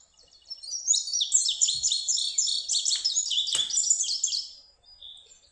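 An indigo bunting sings a clear, bright song built from a series of paired doublet notes, close and loud against a quiet background, lasting several seconds.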